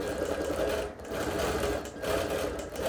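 A sewing machine quilts a show quilt, its needle running in a steady, continuous mechanical whir with slight dips in speed, close and loud with no voices.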